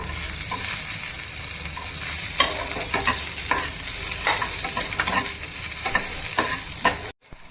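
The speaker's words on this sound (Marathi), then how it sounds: "थोडं तेल टाकून लसूण आणि आलं ते सुद्धा परतून घेऊ" Garlic and ginger sauté in a little oil for a Maharashtrian kala masala, a continuous close sizzle broken by scattered clinks and scrapes of stirring, ending in a brief sudden cut near the close.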